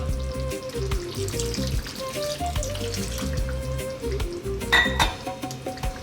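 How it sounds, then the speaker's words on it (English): Water pours and splashes into a pot of Ethiopian lamb and potato stew, with sizzling and light clinking from the cookware, fairly close and steady. "We're going to add a little bit more water."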